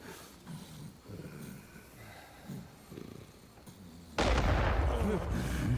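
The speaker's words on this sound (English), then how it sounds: "Ah, is that the explosion?" A sudden loud explosion in the Crimson Desert video game bursts in and roars on after quieter game ambience and low voices.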